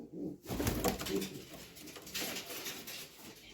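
Pigeons for sale coo nearby in low, throaty murmurs, with soft rustling around them.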